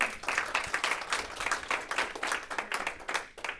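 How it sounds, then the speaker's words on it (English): Workshop audience gives a brief round of applause, steady clapping from a small crowd lasting a few seconds, fairly close and moderately loud. "I'd like to give Tony a quick round of applause."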